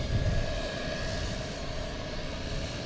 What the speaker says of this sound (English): Wish I could find a plane that wasn't as loud as this guy though.